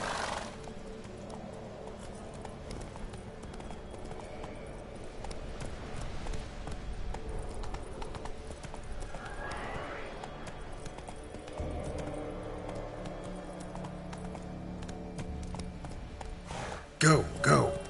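Roach the horse gallops in The Witcher 3, with rapid rhythmic hoofbeats clip-clopping steadily throughout, a voice speaking over them and a louder burst near the end.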